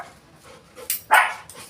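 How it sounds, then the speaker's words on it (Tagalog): A pet dog named Rocco barks indoors near a staircase, giving a few sharp yips and barks in quick succession, close and fairly loud, with a soft whimpering sound before them. "Tahol ng tahol."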